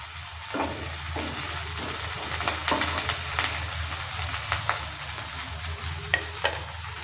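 Chopped green chillies frying in a pan give a constant sizzle under repeated spatula stirs and scrapes, with a few sharper knocks near the end and no voices.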